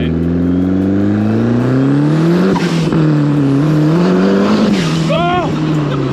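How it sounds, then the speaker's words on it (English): A 350 bhp Quantum Cosworth kit car engine revs hard while driving, loud and close throughout, its pitch climbing and dropping through gear changes with a brief rising whine near the end. "I got into third and it started spinning the tyres"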